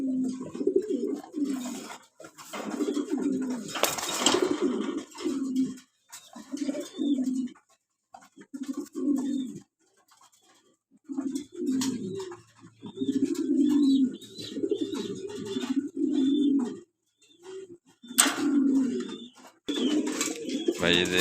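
Racing pigeons in a loft in Gazipur, Dhaka, cooing repeatedly in close, rhythmic bursts with short pauses, several birds calling over one another, with occasional chirps and a voice talking now and then.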